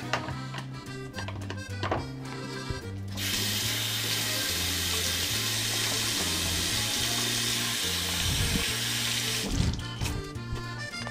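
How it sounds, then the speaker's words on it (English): Water runs from a kitchen tap as hands are washed beneath it, a steady close rush lasting several seconds, framed by clinks and knocks of handling before and after. "Step 1 that has to involve anything with food is washing your hands."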